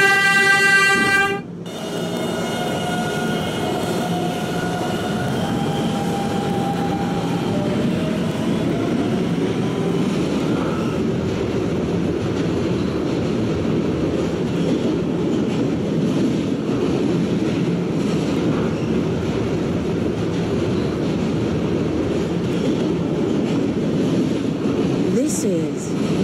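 A Roblox 11 local train on an express route running in a video game, opening with a stepped electronic chime, then a continuous loud rumble and whine of the moving train carrying on steadily to the end.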